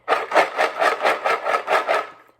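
Small seeds rattle in a shaken box, eight quick rhythmic shakes in a steady back-and-forth pattern, close and fairly loud, with no talking.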